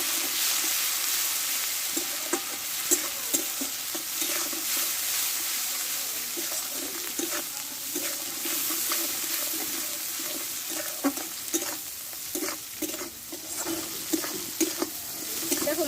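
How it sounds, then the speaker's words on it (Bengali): Spice paste with ginger, tomato, salt and turmeric fries in a pan for a village Bengali rohu fish-head dish, giving a steady close sizzle with frequent scraping and stirring clicks throughout, and no talk. "এই মশলাটা একসঙ্গে ভালোভাবে কষে নেবো"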